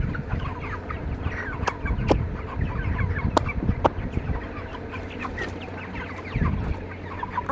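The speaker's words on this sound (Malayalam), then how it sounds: "അതെ, ഇത് വെറ്റ കോഴിക്കളാണ്." Several chickens cluck and chatter inside a coop, with overlapping calls and a few sharp clicks in the near background.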